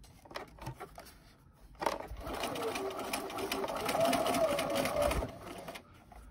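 A home sewing machine runs a steady, whirring stitch along the corner seam of a fabric face mask, starting with a backstitch. There are a few short taps and handling noises first, then a continuous motor hum that builds, holds, and stops.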